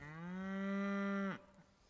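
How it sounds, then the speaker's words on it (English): A single cow on a Scottish farm gives one long, loud, close moo with a steady tone that drops off abruptly at the end, followed by quiet field ambience. "See, the cows are happy enough."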